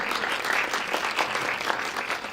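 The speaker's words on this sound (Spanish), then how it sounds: "la recibimos con un fuerte aplauso" Sustained audience applause welcoming a dentist speaker onto the stage at a health session of an olive oil conference, a dense wash of clapping at steady volume throughout.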